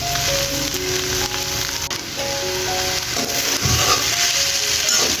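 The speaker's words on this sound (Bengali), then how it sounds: "ঢেঁড়স ভাজিটা হয়ে গেছে, এটা এখন নামিয়ে নেব।" Okra frying in a pan, a soft continuous sizzle and crackle running throughout at moderate level, with steady tonal hum from the kitchen underneath and a few stirring knocks.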